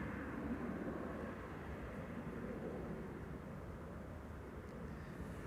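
A DHL Airbus A300 cargo jet heading for the runway at Amsterdam Schiphol Airport gives off a steady, distant low rumble of engine noise, faint and unbroken for the whole stretch, with no talking.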